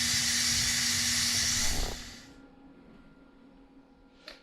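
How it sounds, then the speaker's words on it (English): Pressure cooker quick release after a pot roast cooked for 30 minutes, with a loud, steady hiss of venting steam for about two seconds that cuts off abruptly, leaving a faint low hum and a small click near the end. "I'm going to quick release it again so that we can pull the roast out"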